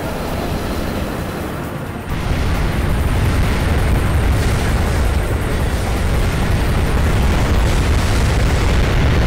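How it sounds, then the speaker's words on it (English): Missiles from vertical launch bays bursting in the mech combat game Armored Core 2, a dense, continuous roar of overlapping explosions that swells sharply after a quieter opening and stays loud to the end. "Vertical launch missile bays!"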